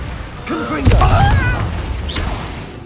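Confringo spell blast in Hogwarts Legacy, a sharp booming burst with crackling, whooshing debris and rising tonal magical swirls, loud and close, with a voice briefly heard alongside.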